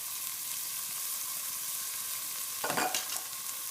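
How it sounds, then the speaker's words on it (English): Peas roasting in a pan with salt, a steady quiet sizzle running throughout, broken near the end by a brief louder clatter of stirring, close by and without any voice. "And I'm going to keep on stirring it."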